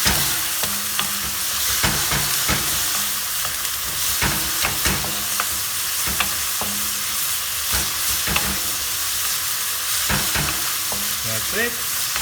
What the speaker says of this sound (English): Little ginger. Little garlic. And let's stir fry